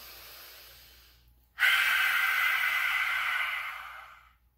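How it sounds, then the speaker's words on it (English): A person does a dragon breath: a soft, fairly long inhale, a brief pause, then a loud, breathy open-mouthed exhale that fades out over a couple of seconds. "And you want to make that ha sound when you exhale."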